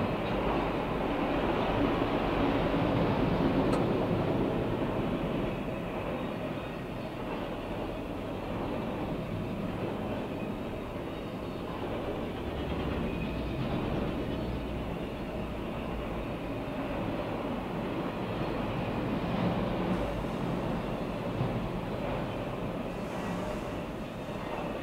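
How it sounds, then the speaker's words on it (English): A CSX freight train hauling loaded auto racks rumbles past steadily for the whole stretch, a loud continuous roar of wheels and cars with no voices. "A lot of auto racks on this train here."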